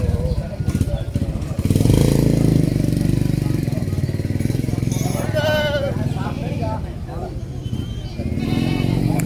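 Goats bleat in a busy goat market in Cipari, Cilacap, Central Java, with wavering cries rising over steady close talk and a low engine rumble in the background.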